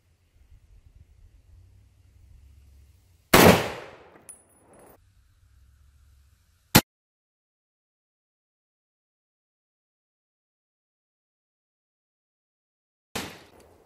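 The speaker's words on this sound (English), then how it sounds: "So now let's try my 30-06 with steel core." A .30-06 steel core rifle round fired at an AR steel body armor plate: one sharp, loud shot with a decaying ring, then a lone metallic crack and a fainter later bang, separated by quiet.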